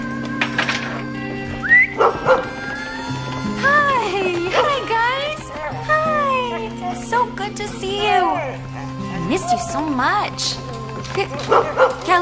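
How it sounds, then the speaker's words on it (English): A dog barks and yips repeatedly in short bursts, with some whimpering, close by while a low steady hum runs underneath. "what are you barking at?"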